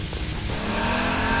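A car engine in the video game Garry's Mod builds from a low rumble into a steady, loud, rising rev that fills the whole stretch, with no talk over it.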